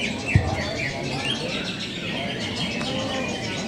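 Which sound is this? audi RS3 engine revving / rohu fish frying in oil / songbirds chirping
songbirds chirping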